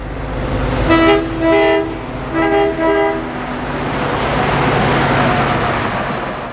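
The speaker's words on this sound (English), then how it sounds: "A westbound Amtrak train rolls through Southfork, headed for Johnstown and Pittsburgh" A westbound Amtrak passenger train rolls through Southfork toward Johnstown and Pittsburgh, its horn sounding in several long blasts over a steady, loud rumble of wheels on rail that carries on after the horn stops.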